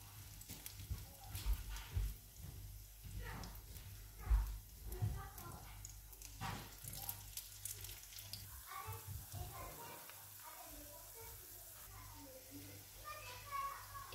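Almond cigar pastries sizzle in hot oil, a steady low frying hiss under someone talking and a voice, with occasional clinks nearby.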